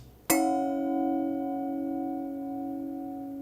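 A thin crystal wine glass struck once, giving a sharp onset and then a clear, bell-like ring with steady sustained tones that fade slowly, close and alone.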